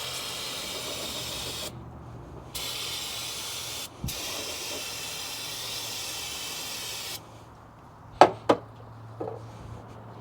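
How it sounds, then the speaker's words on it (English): A steady hiss of spray works on oil under a Toyota, cutting off and starting again in long bursts, then a few sharp metallic knocks follow once the spray stops. "Now I want to spray off all this oil."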